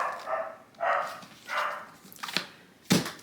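A dog barks several times at a moderate distance, short sharp barks spaced irregularly against a quiet room.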